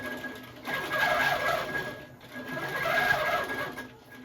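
Quilting machine driven by a Pro Stitcher stitching a row across a quilt, a fast steady mechanical whirr that swells in two long passes with a brief dip between them.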